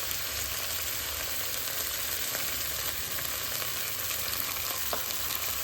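Vegetables sautéing in a pan with a splash of water, giving a steady, even hiss with a few faint clicks. Moderately quiet and close, with no one speaking.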